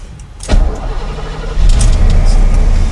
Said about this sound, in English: starts right up. Starts right up. Which is a good sign. Sounds pretty nice for an old Mercedes.